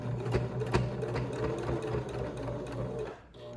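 A sewing machine stitches through multiple layers of fabric on a face mask, running steadily and close up with rapid rhythmic needle thumps before slowing near the end.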